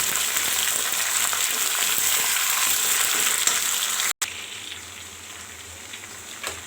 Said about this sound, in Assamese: চিকেনখিনি আমি ৰঙা হোৱালৈকে ফ্ৰাই কৰি ল'ম ইয়াত।